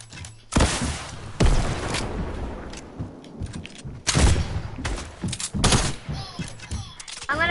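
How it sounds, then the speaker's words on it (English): An ultra gun fired in a PS4 shooter game, several loud, close bursts of gunfire separated by short gaps, each ending in a ringing tail. "Now I'll get my ultra gun out."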